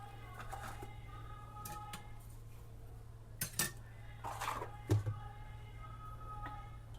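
Dishes being washed in a home kitchen, faint clinks and clatters of utensils and pans in short scattered bursts over a low steady hum.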